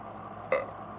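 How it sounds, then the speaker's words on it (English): A single short burp, close and fairly loud, rising out of a faint steady room hum with no talking around it. "There's the burp."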